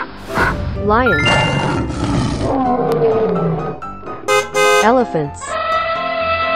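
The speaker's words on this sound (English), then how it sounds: "Lions." Cartoon lion roars in a children's animal cartoon, several loud stylized roars with swooping pitch and bright synthetic tones, close and alone.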